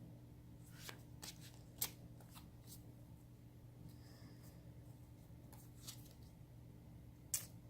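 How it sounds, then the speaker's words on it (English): Soft, quiet shuffling of tarot cards with scattered light clicks and riffles over a low background hum, no talking. "let me finish shuffling and we will pull your cards"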